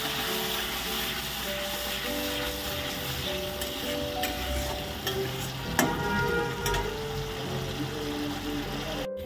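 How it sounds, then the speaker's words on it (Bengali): Spice masala fries in oil with a little water for green jackfruit kofta, giving a close, steady sizzle broken by scraping stirs of a spoon against the pan. "যতক্ষণ না তেল বের হয় ততক্ষণ মশলাটা ভেজে নিতে হবে।"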